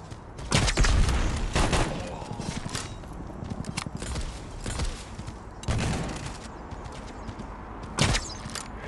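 Gunfire in the mobile shooter Guns of Boom: loud, close bursts of rapid shots come in several separate volleys, with a voice speaking between them.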